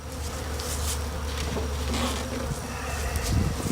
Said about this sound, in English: Set this right here so these other bees can go back in.